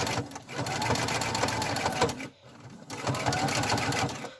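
A sewing machine stitches down the end of a fabric advent calendar pocket in two steady runs of rapid mechanical whirring, close and loud, with a brief pause between them.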